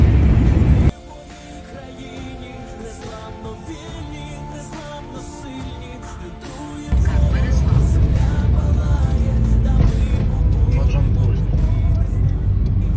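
A car drives along a road toward the village of Darivka in Kherson Oblast, its steady engine and road rumble continuing throughout and growing louder and heavier in the second half, with voices talking inside the vehicle.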